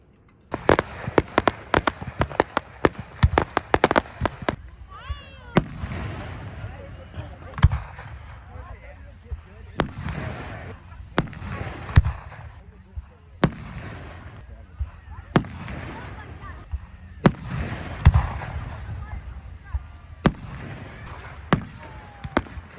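Fireworks burst repeatedly in sharp, irregular bangs with crackling tails over about twenty seconds, some rapid clusters and some spaced apart, with voices talking in the background.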